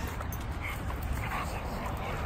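A puppy whimpers and gives short yips amid a continuous rough, noisy background, with people talking nearby throughout.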